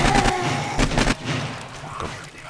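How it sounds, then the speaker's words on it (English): Rapid bursts of AK rifle fire in the zombie survival game 7 Days to Die during a horde night, two loud clusters of shots in quick succession, then a quieter tail. "Let's just take these guys down with my AK for a bit"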